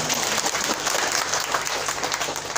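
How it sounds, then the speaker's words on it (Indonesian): Audience at an event about madrasah education breaks into applause, a thick, continuous patter of many hands clapping close and loud for a couple of seconds. "Tepuk tangan."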